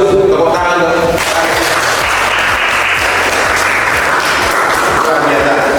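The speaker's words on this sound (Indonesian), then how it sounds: "Tepuk tangan dong." A lecture audience applauds loudly and continuously, dense clapping filling the room, after a voice briefly at the start.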